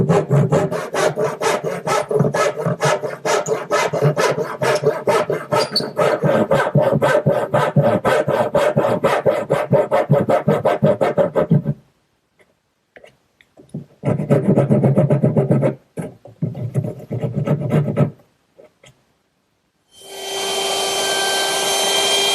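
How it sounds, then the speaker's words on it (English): A back saw cuts a notch in wood with loud, rapid, even rasping strokes, then breaks off into a silence, resumes for a shorter burst and ends with a broader noise. "And to do that, I'm going to use my back saw."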